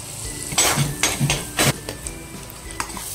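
Garlic frying in butter in a pan: a light sizzle broken by several loud clanks and scrapes of a utensil against the pan, close up, no voices.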